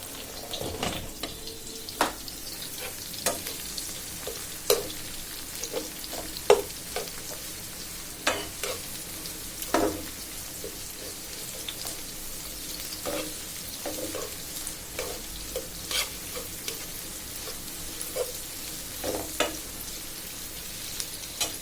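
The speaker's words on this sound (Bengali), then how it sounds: "ভাজা হয়ে গেল পেঁয়াজ রসুন কাঁচামরিচটা" Onion, garlic and green chilli fry in oil with a low, continuous sizzle punctuated by frequent sharp clicks and scrapes of a spatula against the pan, close by and without speech.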